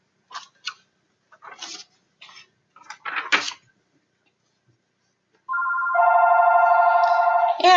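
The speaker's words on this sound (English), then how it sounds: "And here's our household phone ringing." A household telephone rings indoors during a class session. After several seconds of scattered light clinks and rustles and a quiet pause, a loud, steady electronic ring starts and runs to the end.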